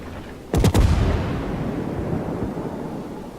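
Naval artillery in World of Warships: a sudden burst of three or four heavy gun blasts in quick succession, followed by a long rumbling decay with no talk over it.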